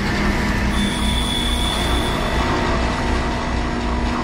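A tram glides along its rails in the sci-fi horror game Dead Space, a continuous rumbling roll with a thin high squeal running through it, steady and close.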